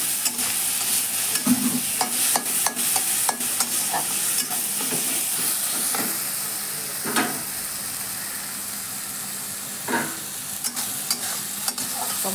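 Tomatoes fry in a pan with salt and turmeric, a continuous close sizzle broken by sharp spatula scrapes and stirring knocks that thin out in the second half.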